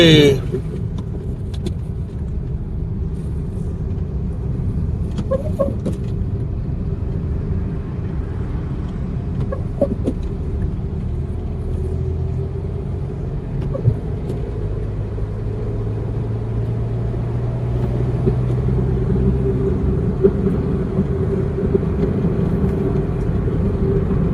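Steady low engine rumble of a CNG-powered car driving in light rain, continuous throughout with faint road noise and a few light clicks; no talking.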